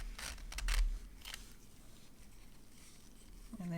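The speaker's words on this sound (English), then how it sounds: "And you can close your zipper again." A zipper is drawn shut on a small handmade fabric pouch shaped like a mini macaron, making a few quiet, quick rasping bursts near the start, followed by soft handling noise.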